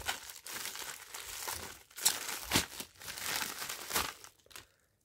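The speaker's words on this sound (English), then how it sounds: "I'll use my little utility knife here" A utility knife slicing down the middle of a cardboard box, heard as continuous scratchy tearing and crinkling with a few sharper rips, close and fairly loud, then quiet at the end.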